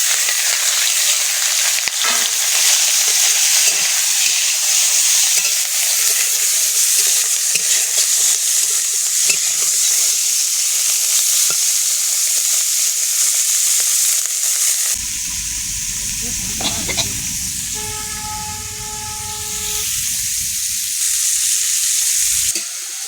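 Small chuno puti fish fry in a pan with salt, turmeric and chilli powder, giving a steady loud sizzle that drops briefly as they are stirred, then bubbles on alone.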